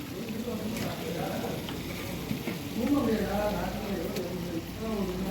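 Mutton pulao with curd added being stirred in a pan, a soft continuous sizzle and scraping stir under background voices.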